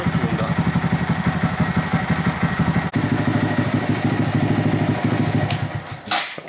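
A Honda Monkey 125 motorcycle engine runs at a steady, close idle with a rhythmic low thumping pulse, loud throughout, briefly dipping near the end before a short clatter.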